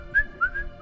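A man whistles a short cheerful tune as he walks away, a few clear sliding whistled notes, fairly close and alone over faint background hum.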